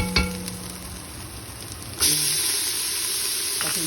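Meat hitting a pan already holding garlic and onion, bursting into a loud, steady sizzle that swells partway through and keeps hissing close up.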